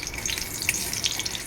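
Black cumin seeds and a broken green chili frying in hot oil, giving a steady close sizzle with faint crackles across a brief moment, no voices.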